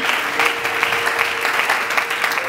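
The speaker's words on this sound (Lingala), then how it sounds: "Est-ce qu'on peut applaudir fort le Seigneur?" A church congregation at a sermon applauds loudly, with dense sustained clapping and a faint murmur of the crowd beneath it.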